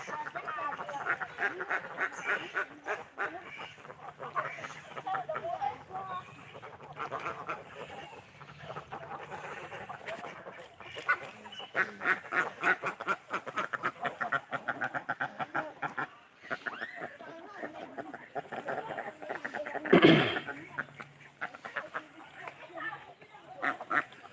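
A flock of egg-laying ducks quacks continuously in a busy, chattering flock, fairly close, with one louder honk near the end.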